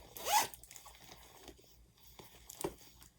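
A soft, close zipper pull on a lilac Fossil soft leather bag gives one quick rasp, followed by faint rustling and small handling clicks.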